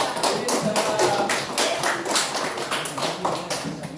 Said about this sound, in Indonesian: tepuk tangan untuk Linda.